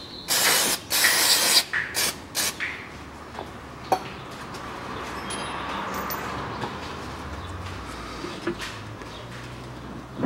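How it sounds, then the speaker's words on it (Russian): Silicone lubricant sprayed from an aerosol can onto rear differential mount parts of a 1998 Toyota Mark II JZX101, a few loud close hissing bursts followed by quieter mechanical handling and a faint steady background hiss. "Смазываю силиконовой смазкой. Также сам сайлентблок смазываю."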